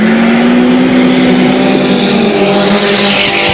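A loud, close race car engine roars at a steady high pitch around a short oval racetrack, its note slowly drifting lower, with tire noise in a continuous dense wash.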